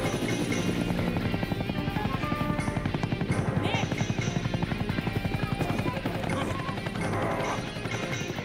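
An old-school helicopter in the video game Psi-Ops: The Mindgate Conspiracy, its rotor thumping in a steady fast pulse that runs loud under game music and effects, with a voice briefly speaking.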